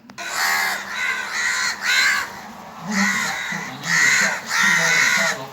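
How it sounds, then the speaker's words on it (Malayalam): A crow caws loudly nearby in a series of harsh, repeated calls, about six bursts with short gaps between them, heard alone. "ദേ കാക്ക എടുത്തിട്ടുണ്ട്"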